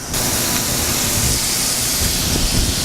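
Capers hitting a pan of hot butter while making chicken piccata set off a loud, steady hiss of sizzling that begins abruptly and carries on evenly throughout, with no talking over it.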